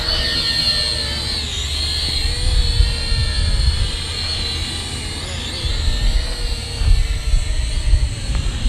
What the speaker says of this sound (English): let's go ahead and start up the motors and do an auto takeoff.